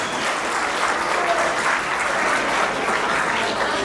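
Guests at a celebration applaud loudly and continuously, a close, dense clapping crowd with faint voices mixed in underneath.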